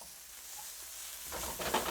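Onions fry in a pan with a soft, steady sizzle that swells toward the end as they are stirred. A brief scrape stands out near the close, and nobody speaks.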